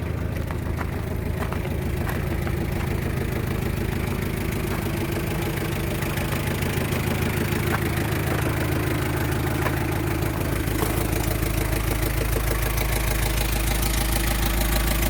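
An old 2002 Hyundai Porter truck engine idles roughly and runs poorly, with a steady loud mechanical rumble and uneven knocking that continues throughout, close up and with no talking.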